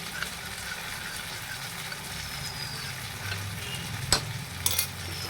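A spoon stirring cornflour slurry in a bowl, close by under a steady hissing, sizzling background, with a couple of sharp clinks of the spoon toward the end.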